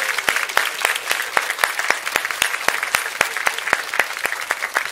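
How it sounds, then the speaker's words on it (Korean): A church congregation claps at an evangelism event to welcome four elders to the front, a warm round of applause with a fairly quick, even rhythm close by. "우리 네 분 나오실 때 큰 박수로 한번 모시면 좋겠습니다."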